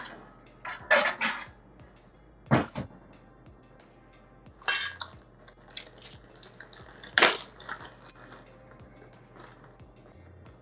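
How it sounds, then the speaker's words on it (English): Shishito peppers rinse in a little colander, with scattered clinks and clatters of metal and dishes, splashy bursts and dripping water, loud near bursts separated by quieter stretches. "I'm going to count 20 and put them in a little colander to rinse"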